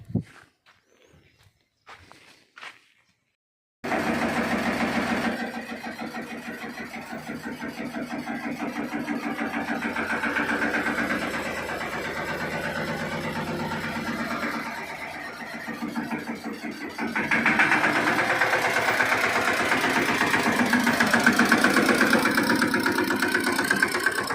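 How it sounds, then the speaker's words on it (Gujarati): After a few seconds of near silence and small knocks, a tractor engine cranks to life and settles into a loud, steady idle that swells near the end. "તો ચાલો હવે ટ્રેક્ટર લઈને આપણે નીકળીએ"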